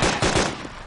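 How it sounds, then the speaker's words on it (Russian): Gunfire in the DayZ video game: a burst of loud, sharp reports in quick succession within under a second, close and dominant with no talk over it. "в твою сторону очень опасный выстрел"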